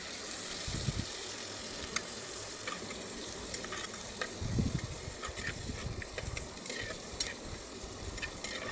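Chopped shallots, curry leaves and crushed garlic fry in a pan with a steady close sizzle and occasional stirring scrapes throughout.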